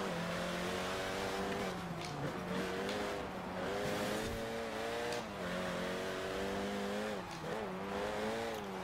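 A 2008 Renault Mégane R26-R in the Forza Horizon racing game accelerates hard, its engine note climbing steadily through the gears with brief dips at shifts, loud and continuous throughout with no talk.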